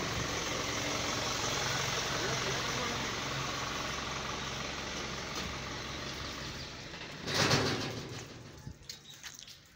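A truck engine idles at a drain-cleaning site with a low, steady, moderately close hum. Near the end a brief louder burst breaks in and voices come and go.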